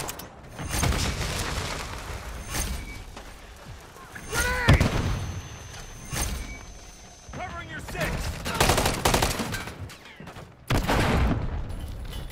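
A grenade blast and bursts of gunfire in Modern Warfare 3, with a sharp explosion midway amid loud rapid shooting and voices talking over the action.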